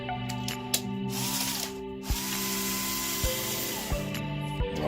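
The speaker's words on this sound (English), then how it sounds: "And all you're doing is taking out the tops of the screws, and this top head just comes right off." Screws being removed from hair clipper blades, several small sharp clicks and ratcheting ticks at irregular intervals over a steady background hum, close and fairly quiet.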